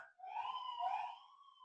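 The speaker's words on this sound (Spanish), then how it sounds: "no falta por ahí un patrullero que pase con la sirena alta" A police car siren wails past in a city, a steady rising and falling electronic tone that swells loudly for about a second and then fades away.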